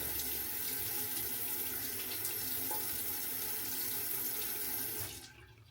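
A bathroom tap runs in a steady close rush of water while a face is being dampened, then cuts off near the end.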